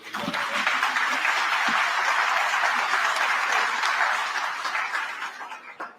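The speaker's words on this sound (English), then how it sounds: "I'll ask for a round of applause for the work." Round of applause at a town board meeting, sustained many-handed clapping from the room, steady and moderately loud, fading out at the end with a few chuckles.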